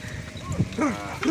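A cow gives a short, low moo, brief and fairly close, with a faint murmur of other sounds around it.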